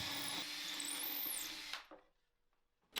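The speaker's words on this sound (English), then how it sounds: "Then, I could line up this jig I made with that mark and drill perfectly spaced out holes." A power drill bores holes into wooden drawers guided by a homemade jig, a steady whining motor for under two seconds that stops, then a brief quiet pause before another short start.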